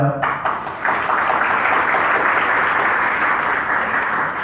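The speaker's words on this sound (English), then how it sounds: "I will request you to also clap for them" Audience clapping fills a hall for named Coke Studio team members at a MAP talk, a steady dense applause close and loud from just after the start, with a brief voice at the very beginning.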